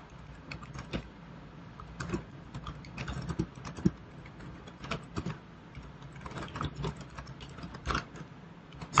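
Fast typing on a computer keyboard while entering code in a Linux terminal text editor, a quiet but steady patter of close key clicks with irregular bursts and short pauses throughout.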